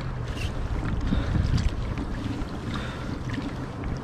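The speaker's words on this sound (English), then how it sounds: "I'm just gonna start paddling" A small boat is paddled across water at night, with soft splashes and sloshing under steady wind buffeting the microphone, close and moderately loud.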